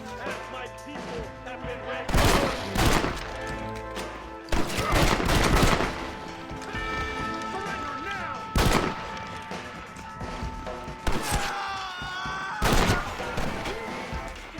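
Repeated gunshots from a firearm in the Western video game Red Dead Redemption, with sharp, loud blasts in irregular bursts over steady background game sound and music, plus occasional voices.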